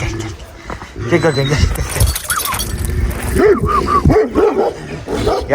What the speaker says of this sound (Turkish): Tabii hepsi birlikte havlayınca köpek ne oluyor dedi.